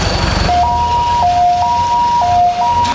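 An ambulance siren sounds at a primary school in Keelung as an injured student is loaded aboard. After a short noisy burst, a loud, close two-tone wail alternates steadily between its high and low pitches.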